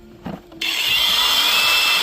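A cordless, button-operated angle grinder gives a brief knock, then spins up into a steady, loud, hissing whine that holds evenly to the end.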